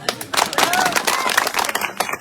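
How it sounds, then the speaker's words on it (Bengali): An audience at a political rally claps in a brief burst of scattered, uneven handclaps, with voices and crowd noise mixed in throughout. "একটা তালি দেন সবাই।"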